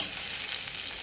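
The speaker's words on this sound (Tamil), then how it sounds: "வெங்காயம் வதங்கிச்சா, உப்பையும் போட்டு வதக்கிடுவோம்." Onions frying with salt in a pan for a roasted gram curry give off a steady, close sizzle that stays even and unbroken throughout, with no voices.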